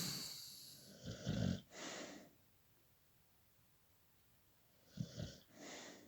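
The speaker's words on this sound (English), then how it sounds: "I'm just going to lay there and snore." Snoring heard close and quietly, two pairs of raspy, wheezing breaths separated by a few seconds of near silence, each with a rough inhale followed by a softer exhale.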